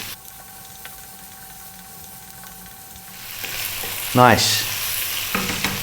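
Potato pieces frying over lively heat in a pan for spinach potato curry, a soft continuous sizzle with scraping stirring strokes building toward the end, close up, plus a brief spoken word.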